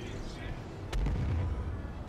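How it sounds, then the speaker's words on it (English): Missile fire during co-op combat against a Vanduul swarm in the Star Citizen video game, a single sharp blast followed by a deep rumbling boom over steady background noise. "That was my teammate using a bit of missile fire there"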